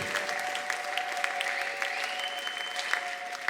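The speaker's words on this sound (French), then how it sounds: "Applaudis très bien Jésus-Christ." Church congregation applauding during a teaching service, a steady wash of many hands clapping at moderate distance for several seconds, with a faint sustained tone running underneath.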